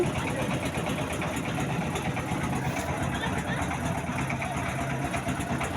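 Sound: boat engine idling

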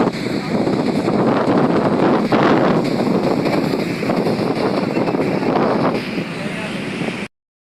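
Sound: strong wind

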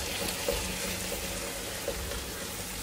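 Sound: frying minced tomato in stuffing mixture

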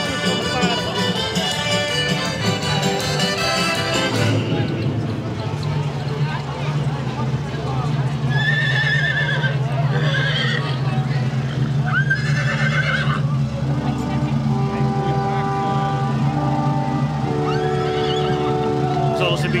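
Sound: horses neighing and hooves clopping at a carnival parade

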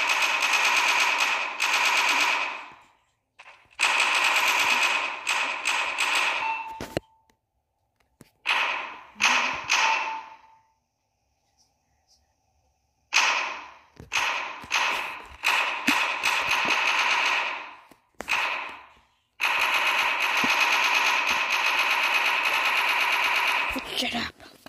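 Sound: turret firing like a machine gun in a video game

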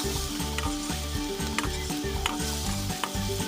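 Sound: stir-frying curry chili paste with garlic

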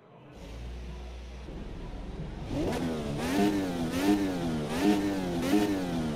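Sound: 2.2-liter V8 engine of Formula USA 2023 starting, AMS2 video game

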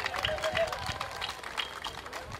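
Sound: audience applause

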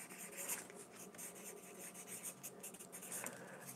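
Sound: writing by hand on a list

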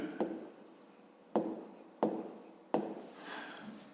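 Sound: writing a math solution by hand

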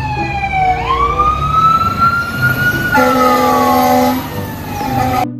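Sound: toy fire engine ladder truck siren

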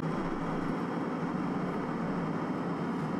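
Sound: airdrop airplane flying overhead in Escape From Tarkov video game

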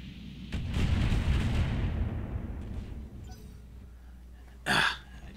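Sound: autocannon fire in a video game

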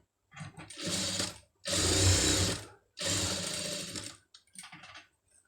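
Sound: sewing machine stitching saree cloth sleeve

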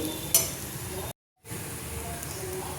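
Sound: stirring vermicelli, milk and powdered sugar mixture in a pan

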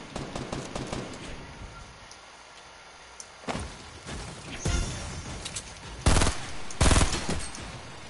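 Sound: gunfire from a shooter video game

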